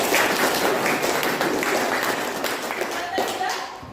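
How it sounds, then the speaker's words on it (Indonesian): Classroom applause for a student group at a senior high school, a dense wash of many hands clapping at once, steady and moderately loud before tapering off at the end, with some voices mixed in. "Kita kasih tepuk tangan untuk kelompok 3."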